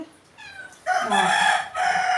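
A rooster crows loudly nearby, a short opening note followed by a long, strained cock-a-doodle-doo.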